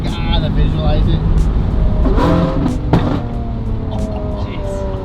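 A Lamborghini SVJ with a Cerakote-coated exhaust revs hard and close, a loud, dense roar that holds steady with small surges and crackles throughout.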